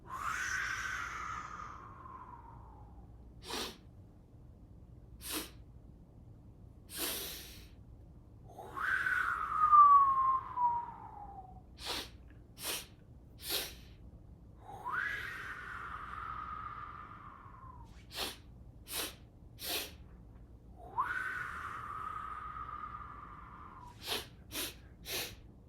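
Breath of fire yoga breathing done seated in a chair yoga class, heard as sharp, forceful exhales that recur steadily through the stretch, mixed with longer whooshing breaths over a quiet background.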